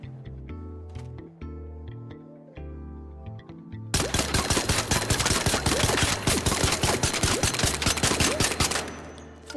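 The standard weapon in the shooter Arc Raiders fires a few spaced, clacking mechanical shots, then unleashes a loud, rapid automatic stream of sharp cracks for about five seconds before cutting off.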